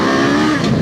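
A Kawasaki KLE500 motorcycle engine revs hard and close during a ride, a loud, dense, continuous roar climbing in pitch over a brief moment.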